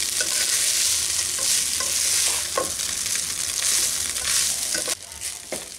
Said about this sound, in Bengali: এখন হালকা হাতে ভালো করে সব উপকরণের সাথে রাইসটাকে মিশিয়ে নিচ্ছি।